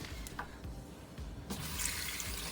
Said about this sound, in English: We're going to rinse it off in cold water, wash it down with some salt, as well as fresh lemons.